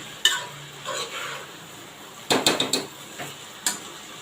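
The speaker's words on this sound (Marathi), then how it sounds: "आपल्याला एक चांगली ग्रेव्ही तयार करायची आहे कांदा टोमॅटोची" An onion and tomato gravy fries in a pan and gets stirred with a spoon, giving a faint low sizzle broken by a few brief scraping stirs and a clustered run of clinks against the pan.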